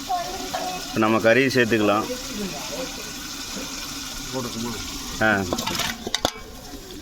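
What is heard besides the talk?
duck meat added and stirred in sizzling pan for biryani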